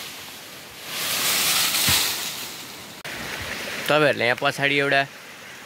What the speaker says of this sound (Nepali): पानीको आवाज सुनिरहनु भयो होला